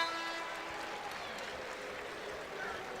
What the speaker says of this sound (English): James Gist gets a nice round of applause